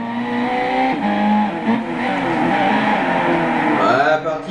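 A Clio Cup race car lapping the Monaco street circuit in Gran Turismo 6, engine revving and droning through gear changes with brief tire squeal, under someone talking throughout.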